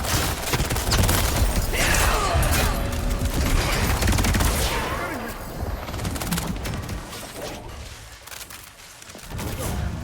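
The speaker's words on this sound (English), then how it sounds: "Shooting." Sustained bursts of gunfire in the video game Highguard, dense and loud with mechanical clatter and crashing impacts, easing off briefly near the end before resuming.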